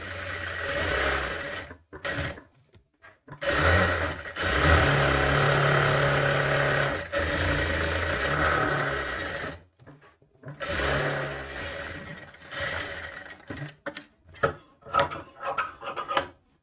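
A sewing machine runs the final corner-to-corner seam on a sleeve for a katori blouse, its motor buzzing in several bursts, some long and steady, with short pauses between runs and a few quick stops near the end.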